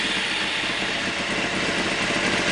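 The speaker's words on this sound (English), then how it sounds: "Start the bike" A Honda F3 motorcycle engine runs at a steady, loud idle, a continuous close mechanical drone with even rumble throughout and no voices.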